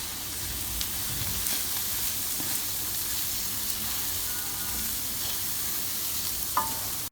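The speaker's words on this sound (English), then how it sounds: "Now let's roast these spices." Spices for aloo tikki roast in a pan, giving a steady close sizzle with occasional stirring scrapes and clicks, no talking.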